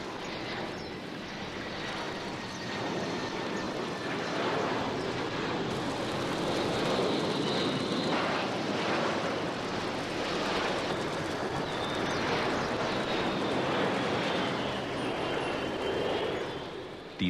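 A low-flying airplane on approach to Hong Kong's airport roars steadily over the rooftops of Kowloon Walled City, its engine loud and sustained for the whole stretch, with a faint whistling whine riding on top.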